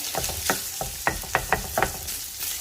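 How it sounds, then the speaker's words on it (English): Unsalted butter melting in a pan gives a close, gentle sizzle broken by soft, regular scraping taps from a utensil, with no voices. "This is unsalted butter. And I'm going to melt that in the pan."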